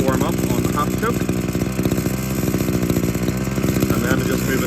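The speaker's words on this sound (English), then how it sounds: "I do actually enjoy the sound of two-stroke idling" A small two-stroke engine idles steadily with a rapid, buzzy pulsing putter, loud and close, the rhythm holding even throughout with no pauses.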